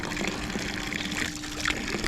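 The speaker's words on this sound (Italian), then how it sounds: "Prima fontanella di acqua fresca," Fresh water runs steadily from a mountain drinking fountain between Cervinia and Chamois in the Italian Alps, a continuous close splashing trickle with no talk.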